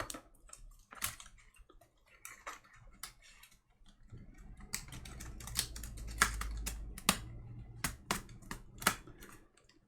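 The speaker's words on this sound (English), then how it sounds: "Let's put the keyboard in." A replacement keyboard is fitted into a 2015 MacBook Pro 15-inch laptop during a repair. Sharp plastic clicks and light taps come close up, sparse at first and then quicker and more clustered.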